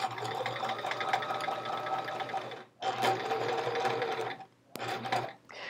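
A sewing machine stitches quilt seams with a 1/4 inch seam allowance, running in steady whirring bursts with a brief stop and a couple of short restarts, close and moderately loud.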